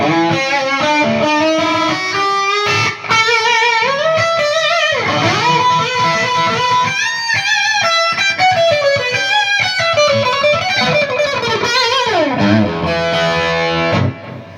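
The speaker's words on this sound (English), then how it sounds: "One repeat, plate reverb." Loud, heavily distorted electric guitar in a Marshall tone plays a continuous riff with sustained notes, trailed by a single delay repeat and a smooth, bright plate reverb wash.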